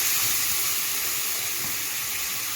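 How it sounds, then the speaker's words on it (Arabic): Vinegar mixed with garlic hits a hot cooking pot for a beef trotter soup, giving a continuous steamy hiss that stays level with no voices. "هننزل بالخل بس كده"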